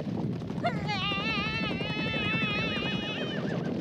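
Horse hooves approach across the steppe in a Tagalog-dubbed animated series, a muffled clip-clop beneath a loud, wavering whinny-like cry and background voices.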